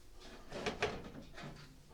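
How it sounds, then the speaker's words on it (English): An air fryer door is pushed shut in a kitchen, giving a quiet, muffled clunk with a little rattle, faint and close. "And shut the door."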